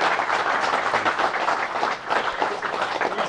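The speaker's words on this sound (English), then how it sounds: "Everybody give them a round of applause." Audience at a fishing seminar applauds, a continuous, fairly loud spread of many hands clapping for the full few seconds with no clear voices on top.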